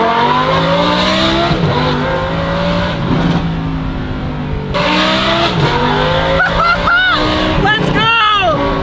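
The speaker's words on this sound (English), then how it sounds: "That's a Huracan STO" A Lamborghini Huracan STO with a loud engine revving hard and dropping back through repeated rises, echoing off nearby buildings, then sharp high-pitched rev sweeps as it pulls away, with crowd chatter underneath.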